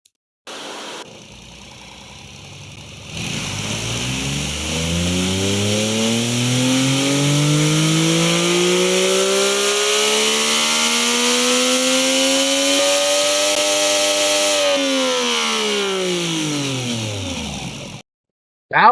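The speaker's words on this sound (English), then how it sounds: "let's go ahead and give this engine a little listen" A small turbocharged 1.6-litre three-cylinder engine in a Ford Transit revs up from idle, climbing steadily in pitch to a loud sustained high rev before dropping back down and cutting off.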